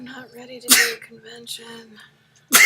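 A person lets out a short, explosive sneeze in the middle of a sentence, with a second burst near the end. Conversational speech runs around both sneezes.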